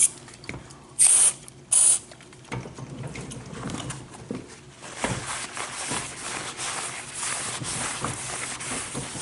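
Orange-scented spray lubricant squirted onto the axle of a Gorilla Carts yard cart, two short close hissing bursts early on, followed by faint handling clicks and rustling.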